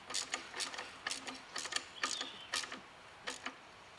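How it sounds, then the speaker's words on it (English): A palm ratchet turns a bolt during a Ford Focus turbo replacement, making about a dozen quick, crisp clicking bursts in an uneven rhythm, close and isolated against a quiet background. "I'm going to use this palm ratchet"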